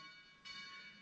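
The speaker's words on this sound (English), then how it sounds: "we get a corresponding bong from the software" A single soft bong from bell-ringing simulator software, one clear strike with a ringing tone that sustains and slowly fades over a faint background hum.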